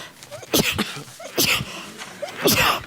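A person sneezes three times in a row, each sharp burst about a second apart and close by.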